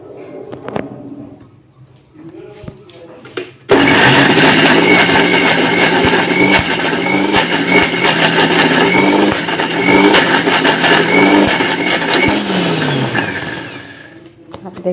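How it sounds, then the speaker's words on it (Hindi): A mixer grinder runs loud and steady on lentils with a little water in its mixing jar, a dense motor whine that starts abruptly after some quieter kitchen sounds and holds for about ten seconds before cutting off. "दाल को मिक्सिंग जार में डाल करके इसको मैं अब हल्का सा पानी डालकर और इसे मैं ग्राइंड कर लूँगी।"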